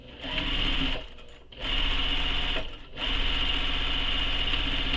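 A sewing machine stitching the sides of a fabric bag, a fast, steady mechanical whir in three bursts separated by short pauses, close and loud.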